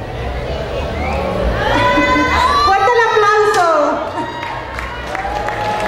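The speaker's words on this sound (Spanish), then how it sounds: "Un fuerte aplauso para las chicas." Audience at a 2022 queen coronation pageant at the Taxadhó fair applauding the contestants, mixed with cheering and shouting voices, a sustained loud crowd swell that peaks mid-clip and then eases off.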